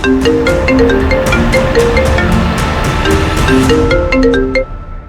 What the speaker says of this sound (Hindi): उससे भी पहले 2 और फोन कॉल्स आए थे लीना को।